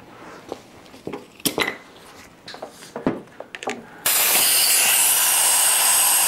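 Handling clatter and rustling on a VW Mk5 GTI cooling system, then a compressed air hose suddenly bursts into a loud, steady hiss through a venturi coolant vacuum tool.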